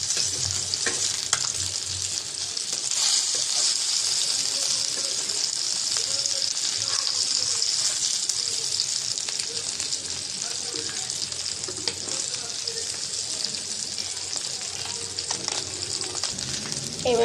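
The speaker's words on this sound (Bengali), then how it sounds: "এই মাছটা ভাজা হচ্ছে, এটা তুলে নেব।" Fish fries in hot oil in a pan, giving a steady, close hiss and sizzle that runs unbroken for the whole stretch, with occasional faint clinks of stirring.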